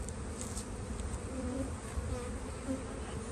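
Honey bees swarm around an open hive in spring during a nectar flow, their dense, steady buzzing humming close by without a break.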